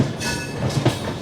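A passenger train on the Amritsar to Ajmer route rumbles along the rails, giving a steady close rolling roar with faint rhythmic wheel clatter and no voices.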